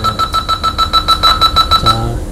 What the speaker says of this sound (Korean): 삐삐 살이 꺼지면 출발.